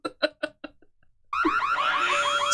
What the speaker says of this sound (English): the beeping sound effect is what annoys me the most